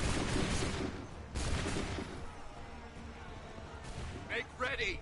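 A musket volley rings out in a colonial-era battle in Assassin's Creed III, sharp bursts of massed gunfire followed by rolling echoes, with shouted commands over the field.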